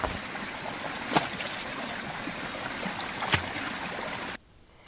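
Steady broadband rush of a river flowing in an animated series, like a stream running nearby, with a couple of brief splashes before it cuts off.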